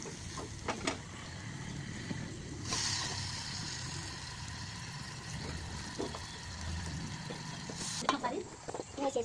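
Chicken tipped into a hot pan for curry and stirred: a soft, steady sizzle runs throughout, with scraping stir strokes near the start and a louder surge of frying and clatter near the end.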